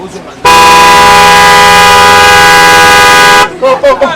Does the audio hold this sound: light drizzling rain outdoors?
no